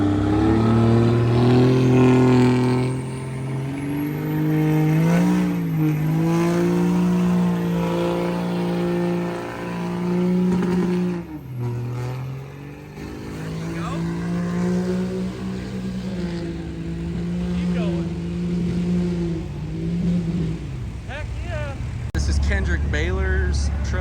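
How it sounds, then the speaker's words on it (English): A diesel truck engine pulls a sled at a Greenville County sled pull in the street class, a loud, deep, sustained roar with rises and dips in revs, while an announcer talks over it. "Baylor's truck. Kendrick, he owns Ultramic Diesel"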